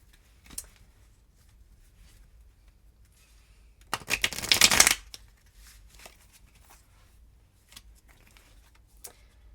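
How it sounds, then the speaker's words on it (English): A tarot deck of cards being shuffled: one brisk, loud riffle of about a second stands out amid quiet room tone, with a few faint card taps and handling sounds before and after. No one speaks. "I have the Everyday Witch Tarot deck that I'm going to pull a card from today."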